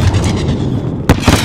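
Grenade blast in Modern Warfare on the Embassy mission: a sudden deep boom near the end, after a stretch of rumbling battle noise, with a short follow-up burst.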